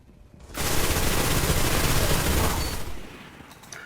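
Gunfire in a Destiny Crucible video game match: a dense, loud burst of rapid shots lasting a few seconds, then tapering off, with no voices.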